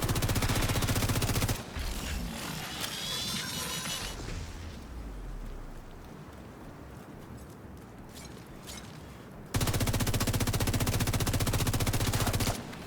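Heavy automatic gunfire from an enemy heavy in a first-person video game, with long loud continuous bursts at the start and end and a quieter mechanical stretch between.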